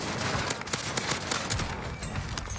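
Rapid Call of Duty gunfire from a street sweeper shotgun crackles in dense bursts, a loud, steady barrage of overlapping shots running throughout with no talk.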